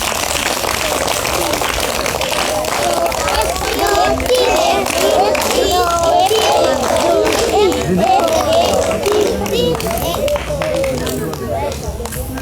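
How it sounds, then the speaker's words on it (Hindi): Schoolchildren clapping together at a government primary school event, a steady patter of many small hands under lively children's chatter and crowd babble throughout. "इसके लिए एक बार ताली बजा दो"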